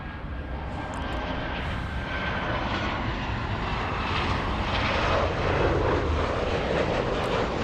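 Delta Airlines Boeing 737 passenger jet on short final into LAX in Los Angeles, a loud, steady engine roar that swells gradually as it approaches, with no talking.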